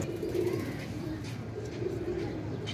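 Pigeons coo in soft, repeated rolling murmurs, with faint background sounds around them.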